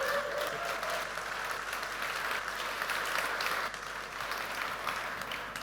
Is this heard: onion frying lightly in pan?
no